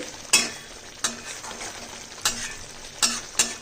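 Oil being stirred in a hot frying pan, with a steady soft sizzle broken by five sharp scraping strokes of a utensil against the pan at uneven intervals.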